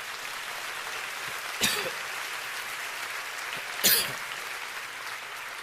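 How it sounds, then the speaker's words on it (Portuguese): A church congregation claps during a Sunday service, a steady, even roar of applause filling the hall, broken by two short, sharp bursts like coughs. "Se é para Jesus, você pode aplaudir."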